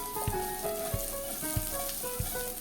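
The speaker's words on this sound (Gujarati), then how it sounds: "થોડી વાર આપણે સાંતળીશું એટલે એકદમ ક્રિસ્પી બને" Patra, colocasia leaf rolls, sautéing in oil in a pan: a dense, steady crackling sizzle with a few regular soft thuds, close and loud, with no talk.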